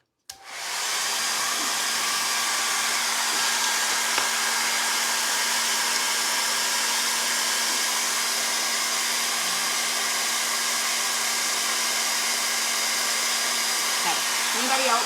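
Blow dryer drying Mod Podge on a home decor craft, switching on and then running in a steady, loud, even whir for the whole stretch with a faint hum beneath it.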